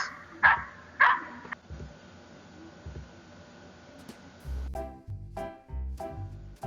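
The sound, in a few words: dogs barking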